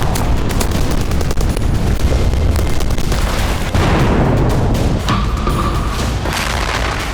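Shelling in the Russia-Ukraine war produces loud, dense explosions: rumbling booms and blasts pile up continuously with no quiet gaps.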